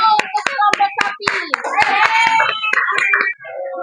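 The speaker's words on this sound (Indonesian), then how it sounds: "Kasih tepuk tangan dulu untuk kelompok sapi." A primary school class claps in quick, uneven bursts, a dozen or so sharp slaps over a few seconds, mixed with children's chatter.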